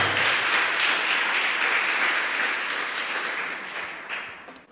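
A church congregation applauds the Lord, with sustained and fairly loud clapping across the whole stretch that gradually thins and fades near the end.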